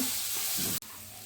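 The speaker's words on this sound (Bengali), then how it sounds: "লাল করে ভেজে নেব" Potatoes fry in a hot pan with a steady, hissing sizzle that cuts out for an instant and then resumes.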